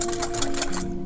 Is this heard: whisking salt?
yes